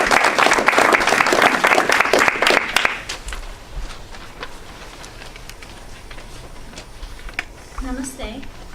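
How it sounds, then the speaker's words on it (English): An audience at a Hindu spirituality evening in Fort Collins breaks into a loud round of applause for about three seconds, then it fades to a quiet room with scattered claps and faint murmurs near the end. "Let's give her a round of applause"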